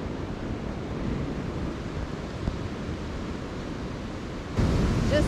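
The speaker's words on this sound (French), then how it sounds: "Just listening to the waves on the rock." Ocean waves breaking against rocks on the shore at Nusa Lembongan, a steady, loud, broad wash of surf that surges louder near the end, with no voices.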